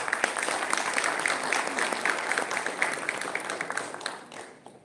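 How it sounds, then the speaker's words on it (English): An audience at a university panel event applauds a newly introduced HR panel speaker, steady moderately loud clapping from many hands lasting several seconds and tapering toward the end. "Please give him a round of applause."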